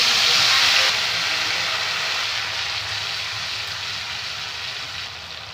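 Tomato dropped into hot oil already holding black cumin and dried red chillies: a loud burst of hissing sizzle at the start that quickly settles into a softer, steady frying crackle fading gradually.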